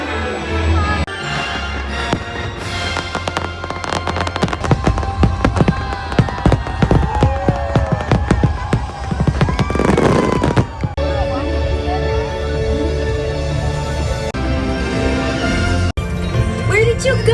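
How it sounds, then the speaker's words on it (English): Fireworks show over the Magic Kingdom castle at the theme park, loud close bursts and crackling pops in rapid irregular volleys, with whistling trails rising between booms and a crowd faintly underneath. "The show starts with Mickey at the castle, followed by stunning fireworks, and ends with the Starlight Parade"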